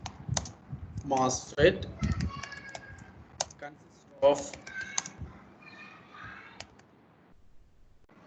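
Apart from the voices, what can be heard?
typing on a computer keyboard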